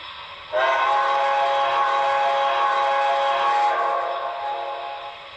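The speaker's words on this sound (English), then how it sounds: "Listen to that whistle." The whistle on a model New York Central Hudson steam locomotive gives one long, bright, sustained blast that tapers off at the end, heard up close with no talking.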